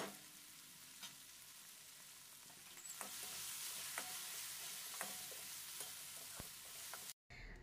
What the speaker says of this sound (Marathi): आता हे व्यवस्थित मिक्स करून घ्यायचं आहे आणि टोमॅटो हलकासा सॉफ्ट होईपर्यंत फक्त अर्धा ते 1 मिनिट परतवून घ्यायचं आहे।